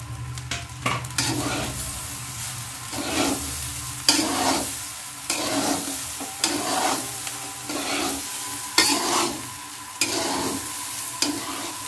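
Khichuri ingredients frying in a pan as a spatula stirs them in repeated scraping strokes, roughly every second, over a steady close sizzle with occasional clinks of metal on the pan.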